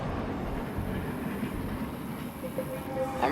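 A train rumbles past in the StarCraft 2 co-op mission Air Raid, a steady, dense low roar of rolling cars with faint clatter that holds level throughout the clip, with no talk over it.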